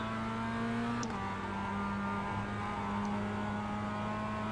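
Mazda Cup race car engine in iRacing at Okayama International holds a steady droning tone, the pitch stepping down once near the start and then holding as the car runs on, with no talking.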